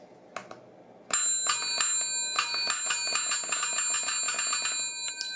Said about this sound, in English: I wanted to try and make the bell ring